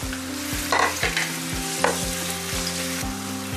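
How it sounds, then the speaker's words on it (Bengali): Chopped onion frying in a pan with bay leaf, cinnamon and cardamom for chicken roast, a close, constant sizzle with regular soft stirring knocks roughly every half second. "এখন আমি দিয়ে দেবো পেঁয়াজ কাটাটা।"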